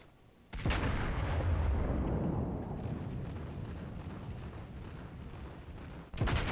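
Naval gunfire in World of Warships: a loud, deep boom bursts in and decays into a long rolling rumble, followed by a second sharp blast near the end, with no talk.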